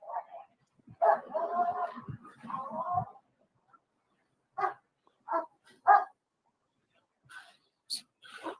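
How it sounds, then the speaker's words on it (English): Near a car on a roadside, a police dog gives several short, sharp barks and yips in separate bursts, the first ones longer and louder, with quiet gaps and some faint background between. "So they got the dog going around the car."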